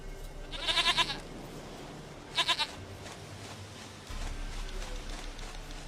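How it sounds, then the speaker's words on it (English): Goat bleats in a video game, two short bursts of loud, quavering cries separated by a pause, over a low ambient game background with no talking. "Goat of mine! Dearest,"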